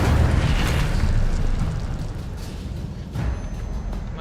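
A burst of the Incendio fire spell in Hogwarts Legacy erupts into a loud, roaring whoosh of flame that slowly dies down, with a second smaller flare near the end.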